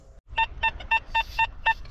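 A metal detector gives a repeated electronic beeping tone while searching for old coins behind former houses, about seven evenly spaced, close and clear pulses.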